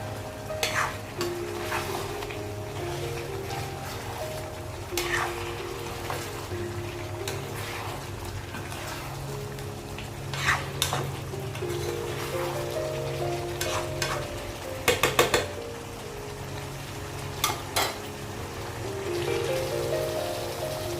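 Chicken with paederia foetida fries uncovered in a pan, its water cooking off with a constant close sizzle, broken by repeated scraping and clanking stirs at irregular intervals; no one talks.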